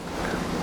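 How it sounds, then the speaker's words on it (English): Wind gusting across an outdoor shooting range during a .22 rifle match, a steady close rush of buffeting noise on the microphone with no other sounds. "It's getting windy out here."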